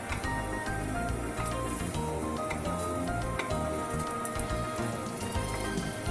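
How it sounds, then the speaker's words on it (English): Curry cheese potato patties fry in oil in a pan over medium-high heat, giving a steady, dense sizzle with scattered crackling pops close by, continuous and without speech. "fry on medium-high heat. Flip once browned."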